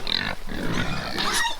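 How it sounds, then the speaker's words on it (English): Pigs grunting and squealing up close while being fed buckets of apples and hot dogs on a farm, a busy, continuous burst of snorts and squeals. "I told you we were gonna come out and feed our pigs those apples"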